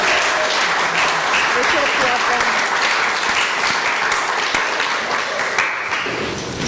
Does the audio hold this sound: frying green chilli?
no